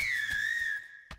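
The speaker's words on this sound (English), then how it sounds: "Did you hear that? Whistling!" A single sustained whistle in an Adventure Time cartoon scene holds a steady high pitch, wavering slightly before stopping, loud and close over a faint low background, with a short thump near the end.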